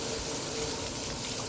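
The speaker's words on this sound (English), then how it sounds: "Oh, the pump's cavitating. It's running out of water." A Kenmore/Electrolux/Frigidaire dishwasher with its door open sprays water while the pump cavitates as it runs low on water, giving a steady, fairly quiet hiss and gurgle with no pauses.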